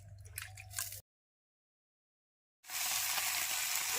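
Garlic frying in a pan for a coriander-leaf chutney gives a close, steady bright sizzle, broken by a silent gap of about a second and a half before the hiss returns louder and denser.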